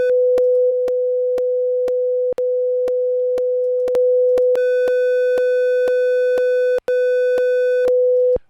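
A steady pure tone pushed through extreme brick wall clipping, broken by regular sharp clicks, with harsh buzzy overtones building up partway through; loud and continuous, no voices.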